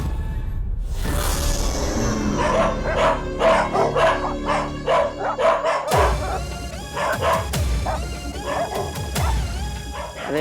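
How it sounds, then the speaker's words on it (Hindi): Several village dogs bark and howl together in a rapid, overlapping volley, loud and fairly close, with sustained howls ringing under the barking in a TV drama scene. "ये कुत्ते ऐसे क्यों भौंक रहे"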